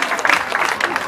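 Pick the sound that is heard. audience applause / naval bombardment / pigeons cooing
audience applause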